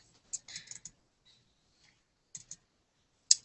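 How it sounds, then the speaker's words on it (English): Computer mouse clicks come in short bursts, a quick cluster of several crisp clicks early, a pair a little later and one sharp click at the end, close and isolated in a quiet room with no talking. "hold that thought, I'm still clicking."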